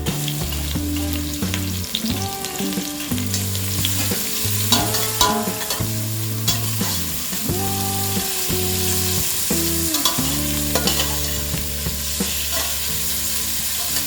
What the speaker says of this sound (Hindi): ऑयल गर्म होते ही हम डालेंगे 3 green chillies finally chopped, 8 to 10 garlic pods crushed, 2 onions finely chopped